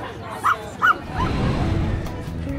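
Dogs at an outdoor dog show in a park in Dnipro give two short yelps or barks early on, then a low crowd murmur and distant chatter fill the rest.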